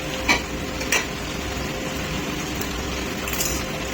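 Spice paste sizzles steadily in a hot pan while cooking chicken jhol, with a couple of sharp utensil clicks against the pan over the continuous frying hiss.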